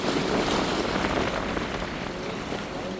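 Racing boats speed across open water in a boat race, giving a continuous loud rush of engine and spray noise mixed with wind buffeting on the microphone.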